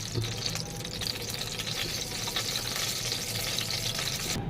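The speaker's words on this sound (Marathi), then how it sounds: "त्याच कढईमध्ये थोडंसं तेल घालते मी" Oil heating in a kadhai over a low gas flame, giving a steady, continuous frying sizzle that runs throughout at moderate level, with no talking.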